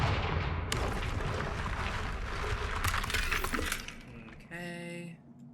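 In Hogwarts Legacy, the Confringo blasting spell erupts in a loud explosive crash with shattering debris that trails off, then a short ringing magical chime closes the effect.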